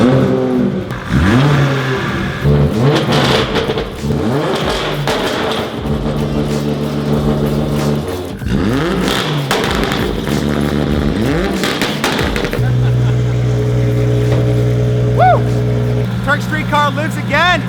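Car engine fired up and revved after a new ACT clutch and flywheel install on a budget race build, loud and close, with repeated rising and falling revs for about twelve seconds before settling into a steady idle.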